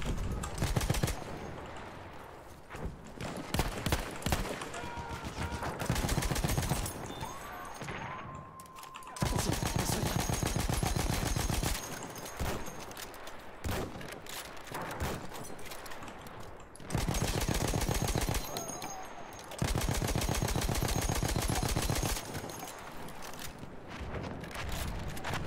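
LMG fire in the World War I shooter Battlefield 1, long bursts of rapid, loud machine-gun shots broken by short pauses, repeating over the whole stretch with little else audible.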